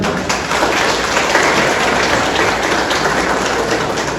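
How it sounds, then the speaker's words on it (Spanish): An audience gives loud, sustained applause for a governor at a public gathering, the dense clapping filling the whole stretch evenly like heavy rain. "le pido un fuerte aplauso a la gobernadora"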